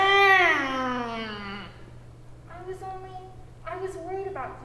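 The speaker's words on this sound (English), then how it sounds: "Get that cat out of my way!" A cat meows loudly on stage during a school theatre production of Poe tales, a long drawn-out cry followed by shorter meows, with an actor's voice nearby and a steady hum underneath.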